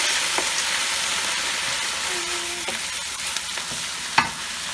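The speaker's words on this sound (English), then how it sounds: "So I'm going to put the coconut milk here, go. Mixing slow." Coconut milk being stirred slowly into collard greens in a hot pan gives a steady sizzle with scattered soft scrapes and a few light taps of the utensil, close up and without speech.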